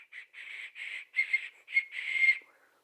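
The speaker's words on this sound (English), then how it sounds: "I have these other whistles. This one's shaped like a dove," Dove-shaped toy whistle blown in a series of short, breathy toots, about six bursts of uneven length with the last held longest, close and fairly quiet, then trailing off, with no talk.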